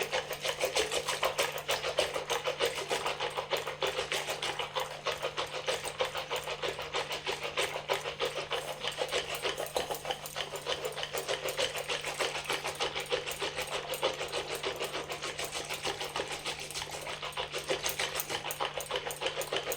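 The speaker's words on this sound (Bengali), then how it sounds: "দেখুন এইভাবে ঘাঁটতে হবে, ফেনা ফেনা হবে ততই ঘাঁটতে হবে।" Yogurt being churned by hand for lassi until frothy, a fast, steady rattling and knocking that continues without pause, close and moderately quiet, with no voices.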